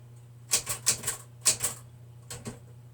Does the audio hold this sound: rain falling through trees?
no